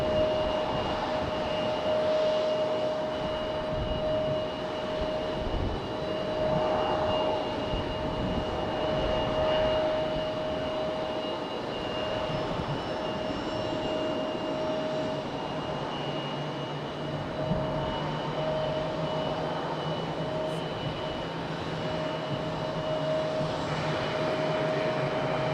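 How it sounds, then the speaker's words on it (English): Delta Airbus A319 jet at Raleigh-Durham airport preparing to depart, a steady distant engine whine and rumble held for a long stretch, fairly even in level. "So we got a Delta A319 about to depart."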